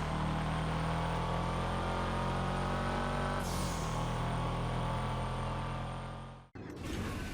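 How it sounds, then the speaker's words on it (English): A Boxer 4 engine car in GTA Online drones with a steady, loud engine note, shifts pitch midway, then cuts out briefly before the sound resumes. "Legendary car, legendary sound, that Boxer 4 engine."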